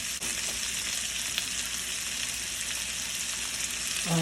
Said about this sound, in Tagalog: With hot oil in a pan, let's add garlic, onions, and add our pork belly and pig ears too